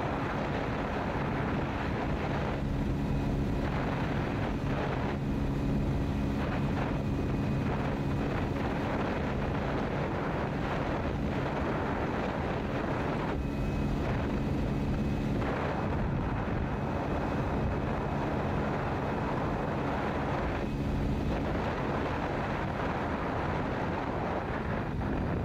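A Hero Splendor Plus motorcycle running at speed in fourth gear, with a steady, loud engine drone and heavy wind rush that continue unbroken throughout.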